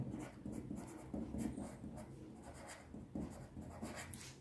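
Chalk or marker scratching out an equation on a classroom board during a Class 10 linear equations lesson, continuous rough strokes with brief breaks, close and fairly steady, no speech.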